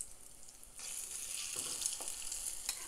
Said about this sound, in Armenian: Արդեն մեր թավան տաքացավ, հիմա մեր խճողակից պետքա վերցնենք, 1 ճաշի գտալ, լցնենք աչքի մեջ